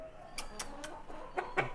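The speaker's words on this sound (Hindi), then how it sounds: "मुर्गी तो क्रां क्रां कर रही है" A hen clucks in short, sharp calls, several spaced bursts over a couple of seconds, close by and clear over a quiet background.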